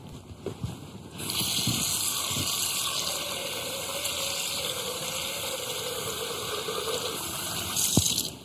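Water gushing from a tap into a pot of dry farro grains, a steady rush starting about a second in after faint clinks and lasting until a final knock near the end.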